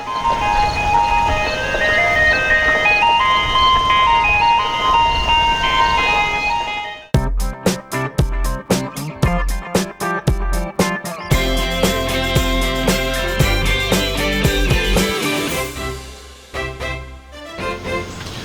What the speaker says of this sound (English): the ice cream truck came down the street making all its racket